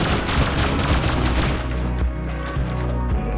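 Rapid gunfire from the video game Rust rattles loudly and continuously, with dense overlapping shots that thin into separate heavier reports near the end.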